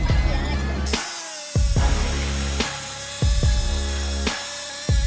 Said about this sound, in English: The chainsaw bites deep into the log, each cut a mix of skill and raw power.